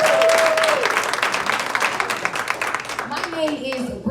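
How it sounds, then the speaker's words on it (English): Audience applause at a financial wellness workshop, a dense burst of clapping that slowly thins out, with a voice speaking over the start and end. "a round of applause for yourself"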